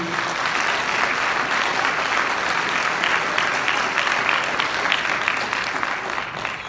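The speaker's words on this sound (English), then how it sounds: "So let's have a round of applause for our design team." Sustained applause from a concert audience at a high school marching band concert, a dense, steady wash of clapping filling the hall for several seconds.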